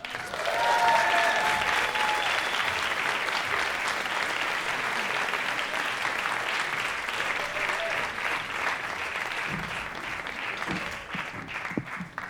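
Dense, sustained crowd applause fills the room at an event, loud and even throughout, with a brief whistle or cheer early on and a few voices surfacing near the end.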